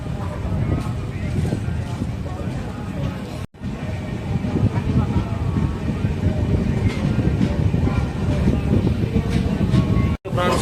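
A train departing Paramakudi railway station rumbles and clatters steadily on the tracks, loud and continuous, with a brief dip partway through.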